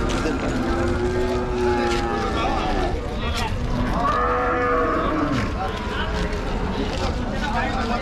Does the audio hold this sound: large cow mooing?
yes